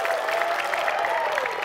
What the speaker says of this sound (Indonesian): Tepuk tangan buat Bebca dan juga Salman.